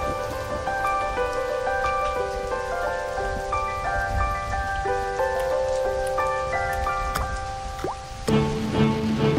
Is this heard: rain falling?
yes